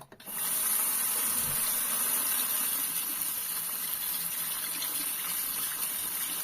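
Water gushes steadily from a tap, a continuous close hissing rush that starts abruptly and keeps flowing.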